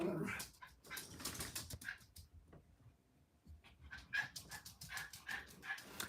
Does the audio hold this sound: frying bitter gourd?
no